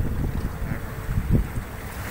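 A sailboat under way at sea in open ocean, with a broad rush of wind buffeting the microphone and water washing along the hull, loud, continuous and close, with no talk.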